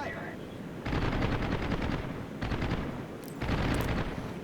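Fighter squadrons dogfight in the World of Warships video game, rapid machine-gun fire rattling in dense bursts over a steady background rumble, with two louder stretches separated by a slightly quieter gap.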